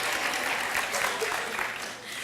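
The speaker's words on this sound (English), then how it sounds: "You can clap. Go ahead." Employees clap at a workplace staff update meeting, a moderate ripple of hands from a small group that holds fairly steady and then thins toward the end.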